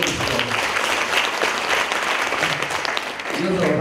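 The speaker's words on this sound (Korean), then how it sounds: "김도우 대표님 박수로 환영해 주시죠." A hall audience at a public debate forum applauds to welcome a panelist, a steady dense clatter of many hands clapping throughout, loud and close, with a voice speaking briefly near the end.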